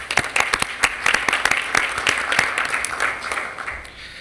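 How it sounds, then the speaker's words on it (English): Applause ripples through a school district board of education meeting as a teacher is honored, many hands clapping in a steady, fairly close patter that holds for several seconds before thinning toward the end. "Let's give Molly a round of applause."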